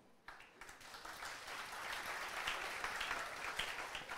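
Audience applause at a celebration honoring a geography lecturer exam topper, a dense steady wash of many hands clapping that swells quickly and holds, loud and close.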